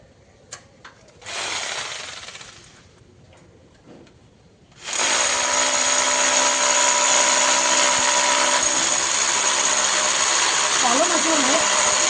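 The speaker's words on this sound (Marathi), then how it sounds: "हे बघा काढायला ड्रिल मशीन. येतं तुम्हाला ड्रिल मारायला?" A brief burst of a power tool is followed by a power drill running continuously at a high, steady whine for several seconds while installing a camera.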